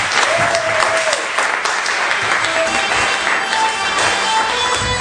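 Loud, dense applause from a comedy club audience, steady clapping that fills the room for about five seconds without pause.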